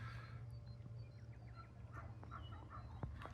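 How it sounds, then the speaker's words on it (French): Chickens cluck and murmur softly outdoors, faint scattered calls over a low steady background hum. "Et les poules sont contentes."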